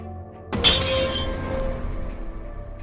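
Window glass shatters loudly in a sudden burst, a bright crash that spills into scattered tinkling debris and fades over a couple of seconds, used as a horror-story sound effect in a quiet house kitchen.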